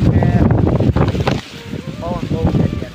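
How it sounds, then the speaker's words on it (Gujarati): Strong gusting wind during a cyclone in Dwarka district buffets the microphone in loud, rough bursts that dip briefly, while someone talks over it. "પવન બહુ છે અત્યારે"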